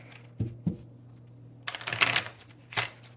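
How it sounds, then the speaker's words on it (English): A deck of 50 game cards for a tabletop card game is shuffled up close: a couple of soft taps, then bursts of rapid riffling flutter, with no talking. "All right, so that's a good shuffle."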